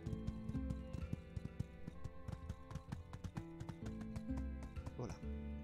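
A horse in the game My Time at Sandrock clip-clops along in a quick, steady hoofbeat rhythm, quiet and close, while a player talks over it.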